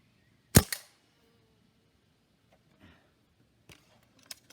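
A Stoeger A30 air rifle fires a Gamo Match 7.56 grain pellet: one sharp, loud crack with a quick secondary snap, then quiet with a few faint clicks and handling noises afterward.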